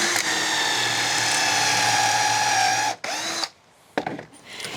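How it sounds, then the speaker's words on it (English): A power drill boring pocket holes in wood during a shed-to-house build gives a steady, loud, high whine for about three seconds, then stops abruptly, leaving brief quieter handling noises. "you drilled one of those out with the pocket hole"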